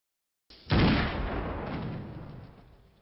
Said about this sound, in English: He believes that the sound of a gunshot will make us listen to his pain and agony.